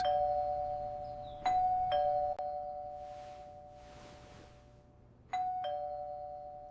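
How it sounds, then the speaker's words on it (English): An electronic doorbell chimes repeatedly, several ding tones in quick succession with pauses between, ringing out and decaying in a quiet room. "The doorbell rings."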